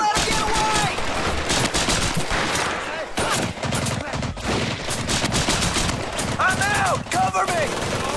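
Rapid gunfire and machine-gun bursts rattle through a WWII video game battle, dense and continuous, with shouted voices calling out over the shooting.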